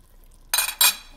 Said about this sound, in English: here goes the coconut cream. I'm gonna use the whole can.